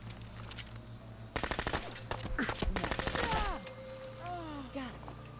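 Enemy gunfire in Fallout 4 erupts in two rapid bursts of automatic shots at moderate distance, followed by fainter scattered sounds as the firing stops.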